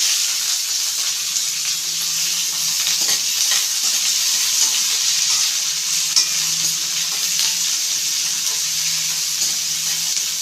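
Onions sautéing in a pan for Chettinad okra mandi give a steady, loud frying sizzle with a broad hiss, joined now and then by soft stirring scrapes throughout, with no voices.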